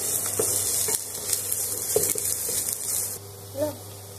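Onion, chili and tomato paste frying in a pan, a steady sizzle with stirring scrapes and a few soft clinks, fading toward the end.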